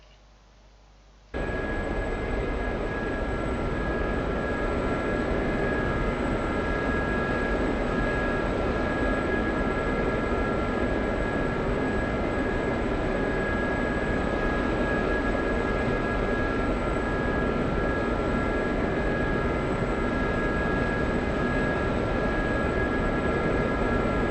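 An aircraft departs Vaziani airfield in a flight simulator game. After a moment of near quiet, a loud jet roar cuts in abruptly and holds steady, with a constant high whine running over it.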